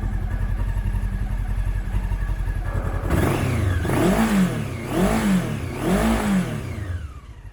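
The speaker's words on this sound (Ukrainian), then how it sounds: "Вже нагрівся мотор, хоча стрілка ще не піднялася" A Honda CB500S motorcycle engine idles with a steady low chug, then revs up and down in four rising-and-falling surges, loud and close.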